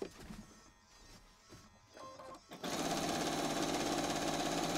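A sewing machine doing free motion quilting starts up after a few seconds of quieter handling noise, then whirs loudly and steadily with a rapid, even needle chatter, close by.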